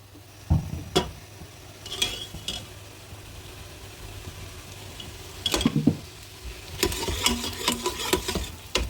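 Masala frying in ghee in a pan, stirred with a spoon: intermittent scraping and rubbing strokes in bursts over a faint, low sizzle, fairly quiet and close.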